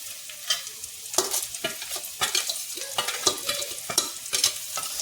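Okra fried with chilli, asafoetida and salt crackles in a pan while a spoon scrapes and stirs in repeated close, uneven strokes over a steady sizzle.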